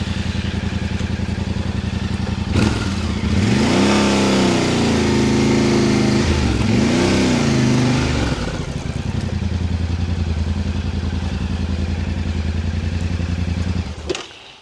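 Dirt bike engine running steadily close by on an off-road trail ride, rising and falling through revs with throttle blips and some clatter, continuous for most of the stretch before cutting off near the end.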